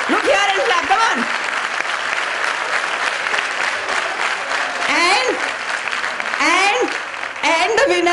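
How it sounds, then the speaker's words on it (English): A crowd claps steadily throughout an extempore speaking competition, with voices calling and talking over the dense, continuous applause. "Look here and clap, come on."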